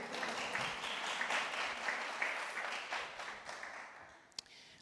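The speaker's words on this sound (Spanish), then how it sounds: "Un aplauso, hermanos, un aplauso para la niña" Congregation applauding a girl during a Sunday church service, a steady wash of clapping that fades near the end with one sharp clap, moderately distant and fairly faint.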